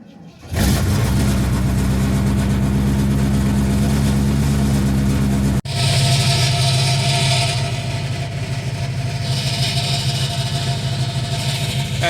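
A box van engine with exhaust work turns over and catches, then runs at a loud, steady idle close by. After a brief cut it keeps running with a slight rise and fall in pitch.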